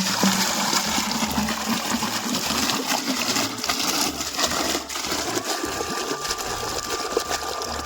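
Water runs steadily from a pipe into a drum on a farm during irrigation, a continuous loud rushing and splashing with a low churning rumble throughout, no talk.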